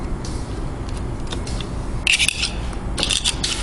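Steel screwdrivers scrape and rasp against a spiral lock while an M16 rifle is taken apart, giving a few short, close metallic scratches over a low background noise.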